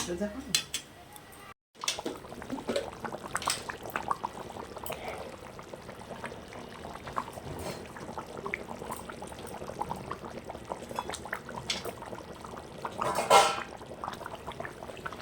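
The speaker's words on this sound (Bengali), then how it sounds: "আমার ঝোলটা ভালো করে ফুটে গেছে" Katla fish curry broth boils in a pot, giving a continuous close bubbling and simmering, broken by occasional clinks of a utensil against the pot.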